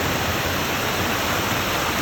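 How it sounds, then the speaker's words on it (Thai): Waterfall at Nam Phu in Tak Bai district, Thailand, with fast-flowing water: a steady, loud, broadband rushing roar holding constant throughout, with no voices. "นี่คือ น้ำตกน้ำโตนอยู่บริเวณน้ำพุ่งมาตะโงยอำเภอตะโงย"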